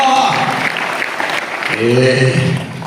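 Audience applause at a public speech, a broad wash of clapping filling the first half, then a voice speaking loudly over the fading claps.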